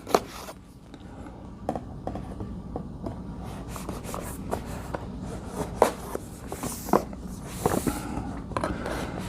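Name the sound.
cutting open a board game box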